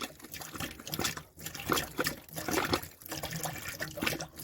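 Hot water gushes and sputters from a caravan tap after winter storage, spitting air in uneven bursts, close and steady with no talk over it.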